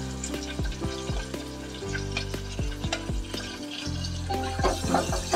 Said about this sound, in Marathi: आता तुमचं लसूण टाकूया त्याच्यामध्ये।